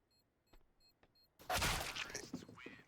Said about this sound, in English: And there's another headshot